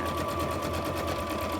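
A sewing machine runs in a continuous, close mechanical whir, its needle stitching at a fast, even rhythm throughout.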